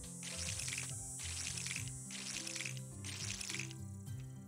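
A watering can pours water in the farming video game Monster Harvest, with three quick splashing pours in a row over looping background music.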